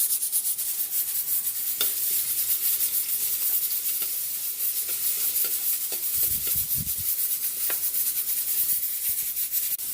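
Chopped garlic sizzling in a hot pan for a pork pata sinigang sa miso, a steady close crackling hiss throughout, with a few light scraping stirs and soft clicks.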